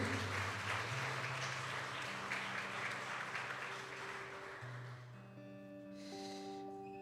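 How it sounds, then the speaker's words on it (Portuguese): A church congregation at an evening service breaks into applause that fades gradually over several seconds, a broad wash of clapping that thins out as sustained organ or keyboard tones carry on beneath and after it. "Dá uma salva de palmas a Jesus."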